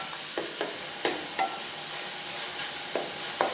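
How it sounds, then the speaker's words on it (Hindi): Tomatoes with salt fry in a pan under a constant close sizzle, broken by several quick scraping strokes of a spoon as they are stirred, with no talking. "अब हम इनकी अच्छी तरह से भुनाई करेंगे।"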